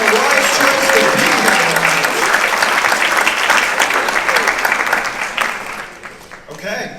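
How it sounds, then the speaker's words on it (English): A seniors' talent show audience applauds loudly and steadily, a dense wash of clapping that tapers off near the end, with a voice speaking over the crowd. "Let's give ourselves a round of applause"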